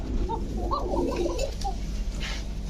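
A pigeon coos in a few soft, rolling bursts close by, over a low background rumble.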